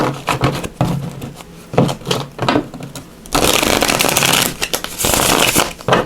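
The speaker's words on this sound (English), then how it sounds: "So let's give these a little shuffle here." Sun and Moon Tarot cards are shuffled by hand in repeated riffling bursts, short rustling strokes at first and then a longer, louder continuous shuffle.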